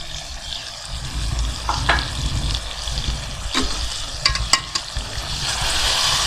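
Tomatoes hit chicken korma frying in a pan and are stirred through, giving a loud, steady sizzle with scraping and a few sharp clinks, close up, with no talking.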